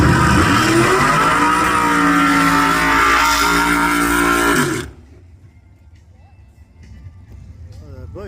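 Race cars at a track championship start line, one with a Barra engine, a loud sustained engine drone with rising revs that cuts off abruptly, leaving quiet background ambience and faint chatter.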